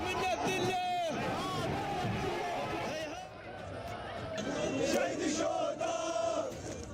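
Protest crowds in Baghdad and Nasiriyah chant and shout in a dense, loud roar of voices with rising cries, steady throughout, while a narrator speaks over the noise.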